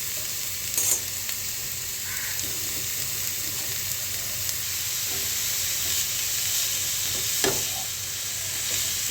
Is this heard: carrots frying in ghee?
yes